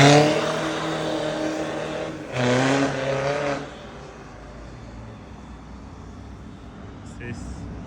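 A BMW F32 420d diesel coupe fitted with a remote-controlled performance exhaust valve kit revs once, a rising throaty engine surge over a steady idle rumble that then settles back down.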